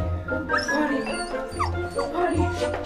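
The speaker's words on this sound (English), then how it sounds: "Take this dog outside." A dog barks, yips and whimpers close by in an indoor home scene, with high whining cries running over louder barks.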